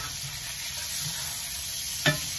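Chuck roast searing in a cast iron skillet gives a steady, fairly loud, close hiss of frying fat, with one brief knock or scrape near the end and no voices.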